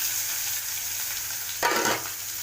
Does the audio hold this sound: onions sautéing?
yes